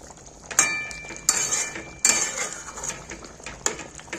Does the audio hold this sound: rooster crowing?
no